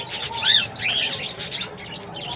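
Several small budgerigars chatter and chirp in quick, warbling bursts, close and fairly loud, with no voices present.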